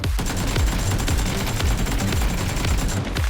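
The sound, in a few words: gunfire in a video game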